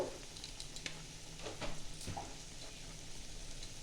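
Chicken sizzles steadily in a hot pan, a continuous bright frying hiss with a few soft stirring scrapes over a low hum, close and moderately loud.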